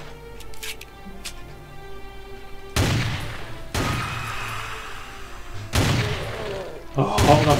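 Shotgun blasts in Doom, Sigil episode under GZDoom, two sharp loud booms a few seconds apart with ringing tails, more firing at the end over steady game noise.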